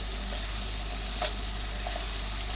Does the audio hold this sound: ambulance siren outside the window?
no